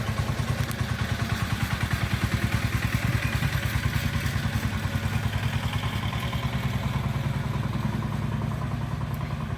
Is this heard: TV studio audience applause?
no